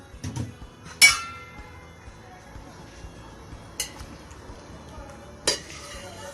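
Sharp metallic clinks of a utensil against a pot of plums, three distinct strikes spaced apart, close and fairly quiet, with faint kitchen background.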